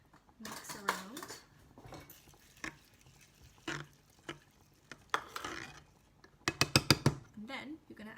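Brown rice being mixed around in a cooking pot, with bursts of scraping and clattering utensil-on-pot sounds, a cluster of rapid clinks near the end, and a voice talking in between.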